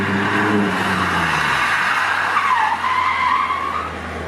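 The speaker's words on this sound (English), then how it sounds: "On the brakes, going down the gears, and just tucking the front." Race car braking hard and shifting down through the gears, the engine note dropping while the tires squeal and skid, a loud sustained screech that bends in pitch, close and alone without any commentary over it.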